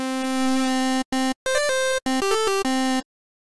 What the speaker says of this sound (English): You get like a cool result like that sometimes if you do a FM.